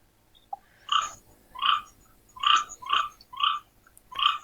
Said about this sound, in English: I said they have a lot of toads in Somalia and that one wants to be on YouTube.